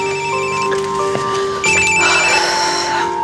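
A telephone rings with a repeating electronic trill, loud and close, with no voices over it.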